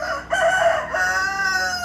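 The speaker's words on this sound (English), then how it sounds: "and these fucking roosters" A rooster in Vietnam crows loudly and close by, one long cock-a-doodle-doo call that rises and then trails off.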